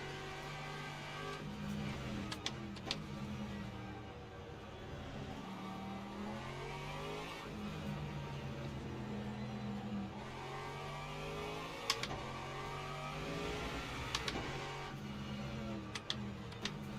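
Racing car engines in Le Mans Ultimate at Bahrain, a steady, fairly faint droning hum with shifting pitch as cars rise and fall through gears, plus occasional sharp clicks.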